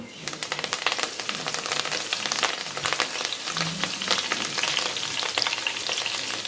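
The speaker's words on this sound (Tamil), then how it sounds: "நம்ம சேர்த்த ஹோல் ஸ்பைசஸ்லாம் நல்லா பொரிஞ்சு வந்துருச்சு" Whole spices fry in hot oil for a Tamil Sunday lunch of chicken kulambu, giving a busy, close crackling sizzle with irregular pops and spits throughout.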